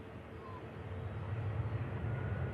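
An EasyJet Airbus A320 arriving at Manchester Airport after a short flight from Belfast, heard as a steady, broad jet roar with low rumble that grows slightly louder over a few seconds, fairly distant and continuous.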